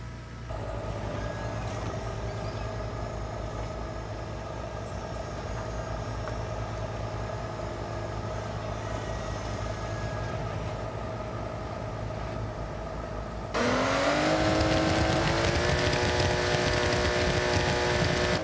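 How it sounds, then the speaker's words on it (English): A car engine in the Forza Horizon racing game runs at a steady drone with harmonic tones, then jumps abruptly louder and brighter near the end as revs climb, with no distinct exhaust pops standing out. "As you can hear, Horizon 6 does a great job with popcorn exhaust sounds."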